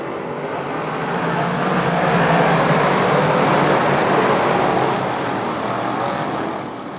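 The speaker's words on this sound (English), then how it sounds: "Let's pound the ground, make the earth shake and quake. It's time for the Diehl Automotive Big Block Modifieds." Big Block Modified race cars roar around a dirt speedway, a loud sustained engine drone that swells to a peak as the pack passes and then eases slightly, with no talk over it.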